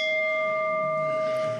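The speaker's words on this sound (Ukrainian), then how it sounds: "Для цього музиканти власноруч виготовили унікальний інструмент з гільзи" A handmade bell cast from a 152 mm artillery shell casing, played for a wartime requiem piece, rings out in a single sustained tone with clear overtones that fade slowly, loud and alone.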